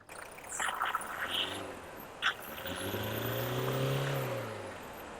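A Toyota Innova engine idles steadily nearby, a low smooth hum with a faint rise in revs midway and a brief knock around the two-second mark.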